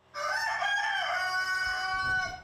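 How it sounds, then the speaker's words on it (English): A single chicken in a rebuilt barn gives one long, loud, sustained crowing call close by, with no voices. "being a home to her new clucking companions"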